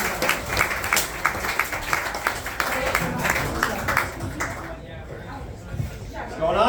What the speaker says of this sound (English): let's give him a round of applause anyway